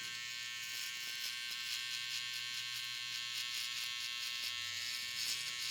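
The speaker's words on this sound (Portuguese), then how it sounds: "agora eu venho raspando mesmo com a minha máquina de acabamento" A finishing trimmer hair clipper shaves the white part of a fade haircut, giving a steady high electric buzz with small rhythmic variations, close and continuous.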